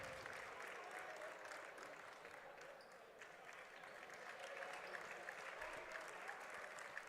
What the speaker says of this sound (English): Nathan Coe will come out to an applause from the Valiant fans